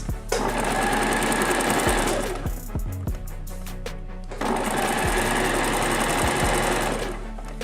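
A sewing machine stitches a jacket seam in long, loud, steady runs of rapid mechanical whirring, pausing briefly in the middle with a few clicks before starting up again, with no talking.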